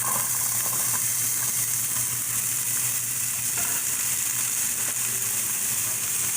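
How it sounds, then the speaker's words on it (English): Carrots sautéing in sesame oil in a pan for soup: a steady, dense, loud sizzling hiss that continues unbroken throughout, close up and with no voices. "we're gonna saute the carrots"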